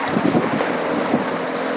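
A large boat on the open sea near Hong Kong's outlying islands gives a steady, loud broadband rumble mixed with heavy wind buffeting on the microphone, continuous with no breaks.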